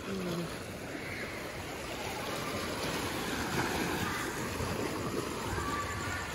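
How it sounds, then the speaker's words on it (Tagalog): Ocean waves along the Cebu coast churn in a continuous broad wash of surf, steady and moderately loud, with no clear talk. "Grabe yung alon."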